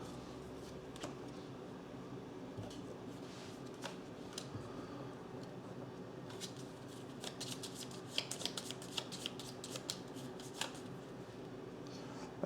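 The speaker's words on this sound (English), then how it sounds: "we have to shuffle this again." A deck of cards for the Aeon Trespass Odyssey board game is shuffled close by, soft papery riffles with crisp clicks that grow busier toward the end, over a quiet room hum. No one speaks.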